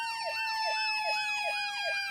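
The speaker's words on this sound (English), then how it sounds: "this unexpected ambulance force them to parallel park it" An ambulance siren on a Canadian driving course wails in a rapid, repeating up-and-down yelp, loud and continuous with no talk.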